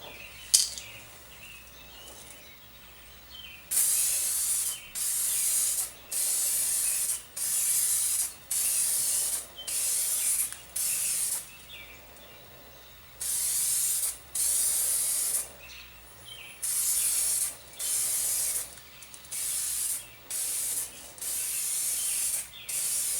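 Eastwood 2K Aero-Spray aerosol paint sprayed onto truck drum brakes in a shop: a long run of loud, close hissing bursts, each lasting a second or two, separated by brief pauses, with no talking.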